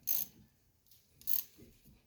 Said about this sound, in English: I have this tool here that I can use with a small ratchet wrench to compress those pistons back.